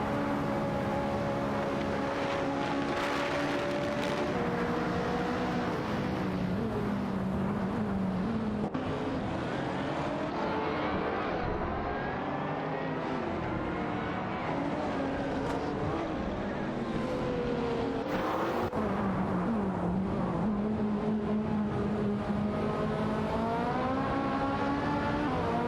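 Race cars in a racing video game roar continuously as they jostle and overtake, with engine pitches rising and falling through gear changes and several cars layered close together, loud throughout.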